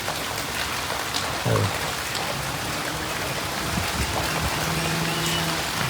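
Heavy rain pours down on a village in Gujarat, a constant close hiss of drops on surfaces, with a brief muffled voice or knock early on beneath the downpour.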